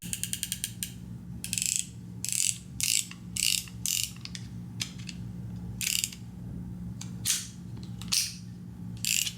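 Rapid metallic clicking bursts from a snap-off utility knife's ratcheting blade wheel, coming in short irregular runs with brief pauses, close and crisp over a low background hum.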